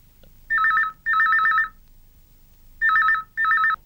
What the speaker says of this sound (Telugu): అయ్యయ్యో, రింగ్ అవుతూనే ఉంది, ఎవరు ఎత్తడం లేదే.